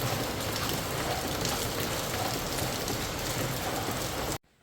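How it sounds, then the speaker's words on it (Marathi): Heavy rain pours steadily in Badlapur, a dense, loud and continuous hiss with no pauses, cutting off abruptly just before the end. "पाऊस भरपूर जोरजोरात पडायला लागला आहे."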